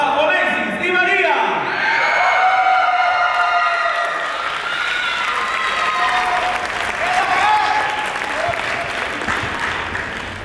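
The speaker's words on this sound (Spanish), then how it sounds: "Recibimos con un fuerte aplauso a Onesis y María." A crowd claps loudly to welcome a New York dance company's directors at a Son Huasteco anniversary event in San Luis Potosí, with whoops and shouts mixed in and an emcee's amplified voice ringing over the applause.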